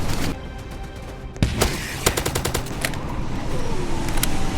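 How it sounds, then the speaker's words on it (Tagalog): Rapid bursts of gunfire shooting at zombies in a Roblox zombie-attack game, with loud close shots and machine-gun rattles over a constant noisy game background. "Ito guys, barilin natin yung mga zombies."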